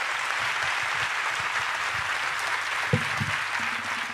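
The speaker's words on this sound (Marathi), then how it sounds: "जोरदार टाळ्या" An audience applauds steadily at a discussion event on a stage, the broad clapping wash continuing throughout with a few louder individual claps standing out near the end.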